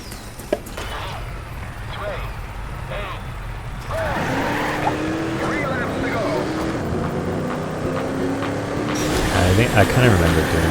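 Engine roar and skidding from a car in the video game Trackmania Turbo, with a rising engine note and tire squeal over a continuous drone, partly under a person talking.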